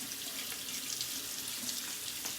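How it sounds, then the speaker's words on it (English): Tap water runs steadily into a sink as a makeup brush is rinsed, a constant close hissing splash with no talking. "Let me rinse that off first."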